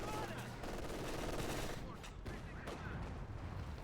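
Gunfire from a skirmish in Company of Heroes 2 crackles as rapid shots and machine-gun bursts, moderately loud and continuous, mixed with battlefield noise.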